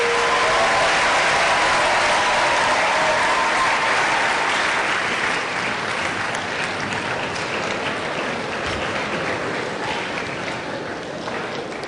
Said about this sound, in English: Clap and welcome the Vice Chancellor of Covenant University, the chief host of this event, Professor Isaac Obayan